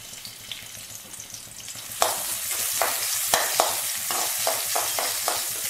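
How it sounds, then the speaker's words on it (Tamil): Crushed garlic frying in oil in a pan, with a steady close sizzle that jumps louder after about two seconds and carries sharp stirring scrapes and pops on top, with no talking. "பூண்டு லைட்டாக ஃப்ரை ஆனால் போதும்"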